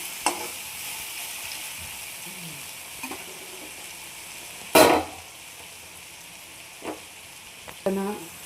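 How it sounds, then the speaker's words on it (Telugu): Ivy gourd stirred as it fries in oil, giving a steady soft sizzle broken by occasional sharp scrapes and clinks of a spoon against the pan, with no talk over it. "ఇలా కలుపుకుంటూ ఉంటే అవి మగ్గుతూ ఉంటాయి."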